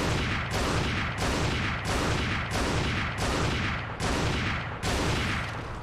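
Rapid, regular heavy gunshots in the Resident Evil 4 video game fire in a steady rhythm of about eight loud booming blasts, each trailing off briefly before the next.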